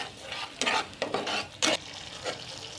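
Yogurt being stirred into a fish curry in a pan over low heat, giving soft scraping stirs and light sizzling in several short bursts, close by and without talk.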